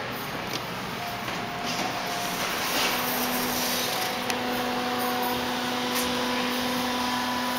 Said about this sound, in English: Here we come to the elevator at SFU Dining Hall.